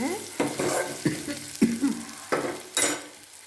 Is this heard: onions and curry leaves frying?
yes